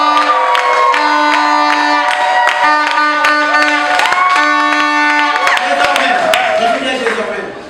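Applause and cheering from guests at a civil wedding ceremony at the registry office, a steady wash of clapping and crowd voices mixed with loud, sustained tonal music throughout.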